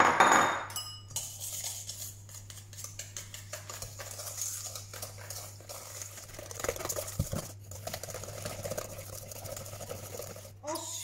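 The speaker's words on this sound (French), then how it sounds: "Hop, et on mélange." Cake batter being stirred in a mixing bowl just after sugar is poured in, with steady clinking and scraping of a utensil against the bowl throughout and a low hum underneath.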